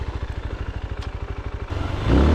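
A CFLite Dual 250 dual-sport motorcycle ridden in first gear through slippery sand, its single-cylinder engine pulsing rapidly and steadily up close, then swelling louder as throttle opens near the end.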